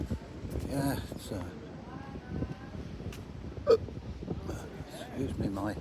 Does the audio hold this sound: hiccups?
yes